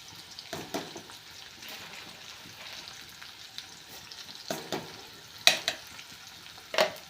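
A spoon stirs moong dal with fenugreek greens in a pan, soft intermittent scraping and gentle sizzling with a few sharper clinks against the pan, fairly quiet and close.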